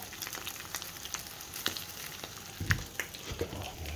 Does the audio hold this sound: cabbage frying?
yes